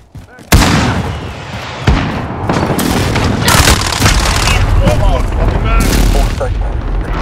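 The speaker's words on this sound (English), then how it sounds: "Enemy precision airstrike, take cover." An enemy precision airstrike in Call of Duty Modern Warfare multiplayer hits with loud, close booming blasts, then heavy explosions and gunfire rumble on continuously.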